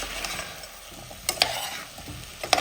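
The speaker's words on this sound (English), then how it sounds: "we are stirring the mix here" A spoon stirs a spicy bacon burnt ends stew in a pot over the heat, with a steady sizzle of oil underneath and a few sharp scraping clinks against the pot, close and moderately loud, with no speech.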